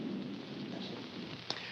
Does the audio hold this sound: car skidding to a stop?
no